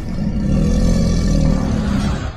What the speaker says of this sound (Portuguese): Rosnados.